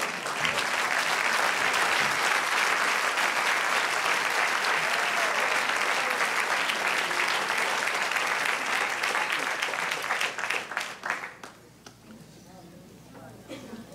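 A church congregation claps loudly and continuously for about ten seconds, a thick roar of hands with some voices mixed in, then it thins out abruptly into scattered claps and quieter room sound.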